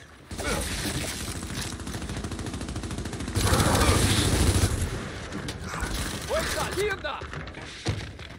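Rapid gunfire in a Gears 5 multiplayer match: dense, sustained automatic bursts with heavy thuds and mechanical clatter, loud and close throughout, briefly swelling midway, with a voice speaking over the action.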